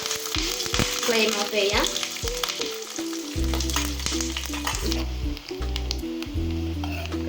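Curry leaves sizzling in hot oil with fried coconut for a simple beef curry, a steady crackling fry with stirring throughout, loud and close, while a voice speaks briefly and music plays underneath.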